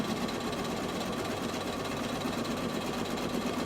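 An embroidery machine stitches an applique design onto a t-shirt, giving a steady, close mechanical whir with a fast, even needle rhythm that holds constant throughout.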